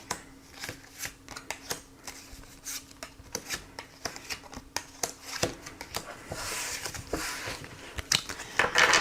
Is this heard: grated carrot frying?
no